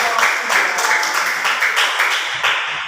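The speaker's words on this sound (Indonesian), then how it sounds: "Baik, tepuk tangan" Classroom applause for a student group, steady dense clapping from many hands that stays fairly even throughout with small swells, filling the room on its own.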